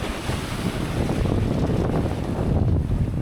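Strong wind roaring across the microphone aboard a sailboat at sea, mixed with rushing water and waves along the hull, a loud continuous buffeting with no voices.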